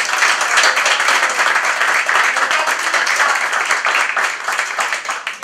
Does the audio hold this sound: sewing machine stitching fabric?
no